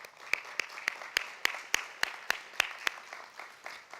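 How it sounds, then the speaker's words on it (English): A small group applauds at a Tri Beta biology honor society chapter installation, with evenly spaced, distinct claps standing out over a soft background of lighter clapping, fairly quiet and close. "So give yourselves a round of applause."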